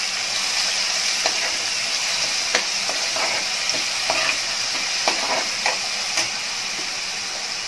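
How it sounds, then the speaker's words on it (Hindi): Two chopped green chillies frying in a pan over a medium gas flame, a steady loud sizzle and hiss with occasional scraping stirs of a spoon, close and continuous. "दो ग्रीन चिलीज कट किया हुआ, अच्छे से फ्राई करेंगे।"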